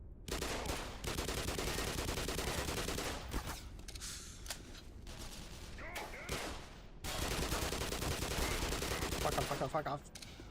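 Rapid bursts of gunfire from the video game Black Mesa, in dense stretches broken by short lulls. Faint overall, with a voice speaking now and then.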